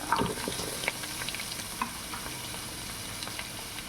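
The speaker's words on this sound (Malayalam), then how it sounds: "കറിവേപ്പില വാടി വരുമ്പോൾ അതിലേക്ക് നമ്മുടെ മുറിച്ച് വെച്ച വലിയുള്ളി വെളുത്തുള്ളി ഇട്ട് വഴറ്റുക" Onion and garlic stirred into hot oil with wilting curry leaves in a pan for a chicken curry, a steady soft sizzle with scraping stirs near the start, close and alone.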